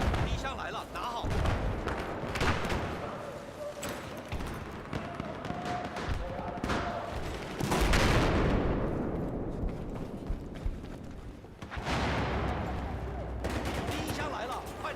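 Enemy machine gun fire in Battlefield 4 online play rattles in dense, continuous bursts, mixed with heavier blasts and game noise throughout, with voices talking over it.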